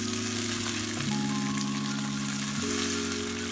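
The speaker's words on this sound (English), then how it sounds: "So I'm going to add my blended vegetables." Blended vegetables hit a hot pot of Ghana beans stew and keep up a loud, steady sizzle and bubbling, close by, while a low tonal hum runs underneath.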